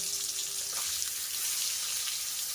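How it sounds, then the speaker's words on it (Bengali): Pointed gourd (potol) frying in hot oil gives a soft, continuous crackling sizzle. It sounds fairly quiet and even from start to finish. "পটলগুলোকে ভাজা করে নেব।"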